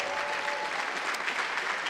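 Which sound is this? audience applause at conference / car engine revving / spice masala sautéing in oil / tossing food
audience applause at conference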